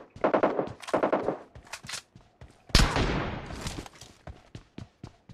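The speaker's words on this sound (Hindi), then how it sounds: "स्नाइपर शॉट दे रहा है।" Gunshots in the mobile battle-royale game PUBG Mobile, with a big loud sniper rifle crack near the middle trailing into a rolling echo, set among several sharp shorter bursts of gunfire before and after.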